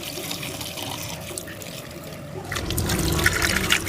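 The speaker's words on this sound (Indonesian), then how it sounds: "ikan gembung terlebih dahulu dibersihkan dan dilakukan towing dengan menggunakan air mengalir" Tap water runs steadily over frozen Indian mackerel being thawed, a continuous splashing flow that grows a little louder and busier toward the end.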